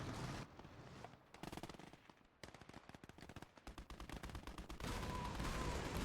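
MG42 machine gun and submachine gun fire in the World War II strategy game Gates of Hell: Ostfront, with loud rapid bursts and dense volleys of automatic shots and battle noise, with no pauses.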